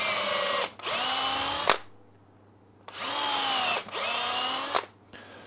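A power drill with a 7.5mm bit whirs in three loud bursts into wood for bowl coring, each spinning up and winding down, with short quiet pauses between.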